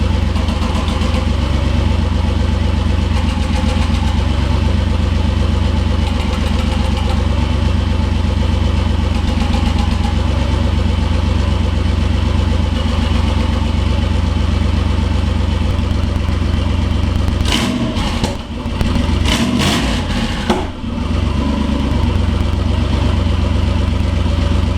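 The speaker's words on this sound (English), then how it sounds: "fired up the engine and just made a few last minute checks" A Mercedes E55 V8 idles steadily after starting, a loud, close, deep rumble that holds an even pulse throughout, with a brief disturbance of clunks or shuffling near the end, and no talking.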